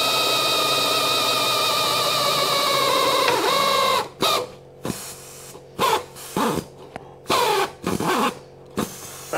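A power drill with a weakening battery whines steadily for about four seconds, then runs in short repeated bursts with brief pauses between them, while working on a Cub Cadet XZ6 zero-turn mower.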